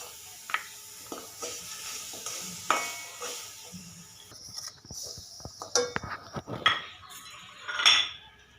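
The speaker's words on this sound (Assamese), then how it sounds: "এই গুড়খিনি মই কেৰাহীত দি দিছোঁ।" Jaggery being stirred as it heats in a kadai, with soft scraping and clinking of a ladle against the metal pan, irregular taps and light sizzling, close and fairly quiet, no talk.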